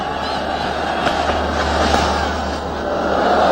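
A huge cricket stadium crowd cheers a batsman's century, a broad, steady roar of many voices that sounds distant, with slight swells in loudness.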